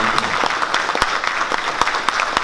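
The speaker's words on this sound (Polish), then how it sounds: "Wielkie brawa, Krzysztof." Dense, steady applause from a crowd at a Polish police traffic officer award ceremony, loud and continuous with a few sharper individual claps standing out.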